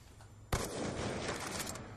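A sudden burst of gunfire in the video game Black Ops 2 cracks out after a quiet half-second, then its loud, rattling wash lingers and slowly fades.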